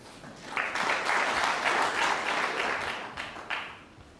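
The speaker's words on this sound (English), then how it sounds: "what's happened to the fella that was pressing the button for the crowd noise?" Artificial crowd applause played into a snooker broadcast at a world championship final, a swelling burst of clapping that rises, holds for a few seconds and trails off.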